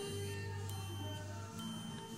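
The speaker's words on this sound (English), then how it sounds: "If you get a meter that has a built-in beep like this one, you'll get this sound." A steady electronic tone from a multimeter's continuity beeper, heard while probing a hexacopter power distribution board, holding nearly constant for about two seconds, close and with no talk.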